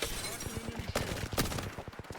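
Gunfire in the Apex Legends battle royale shooter, a rapid string of sharp shots with a couple of louder cracks standing out, heard at close range over continuous game sound.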